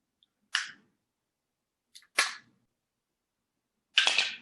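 Cooked lobster shell cracked by hand: three sharp, brittle snaps spaced apart, close and crisp, in otherwise near silence.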